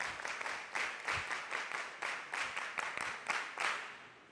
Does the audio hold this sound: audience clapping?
yes